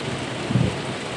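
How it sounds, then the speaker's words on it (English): Rain and thunder from a thunderstorm, a brief, dense wash of steady rainfall with a short low rumble swelling in the middle, no voices. "now it's like red thunderstorm"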